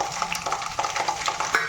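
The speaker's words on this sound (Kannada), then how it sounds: "ನೀವು ಡ್ರೈ ಫ್ರೂಟ್ಸು, ಶೇಂಗಾ ಫ್ರೈ ಮಾಡ್ಕೋಬೇಕು" Peanuts fry in a pan for aloo chiwda, giving a steady close sizzle with soft scraping and stirring clatter as they are moved about.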